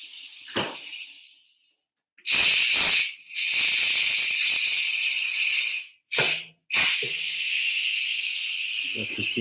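Steam hisses loudly from BBQ chicken and pineapple skewers on a barbecue grill, coming in several long bursts separated by brief pauses, close and harsh.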